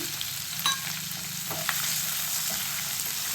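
Chopped onion and three green chillies fry in a pan for an okra masala gravy curry, a steady close sizzle broken by a few light stirring scrapes.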